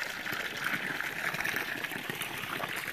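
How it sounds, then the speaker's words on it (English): Fresh spring water flows at Santa Rosa Spring in the mountains, a continuous soft rushing trickle, close and steady with no breaks. "Fresh flowing water."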